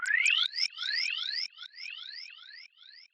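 Hardwave one-shot space effect: a cluster of rising, repeating synthetic sweeps that echo and fade over about three seconds, fairly soft and alone.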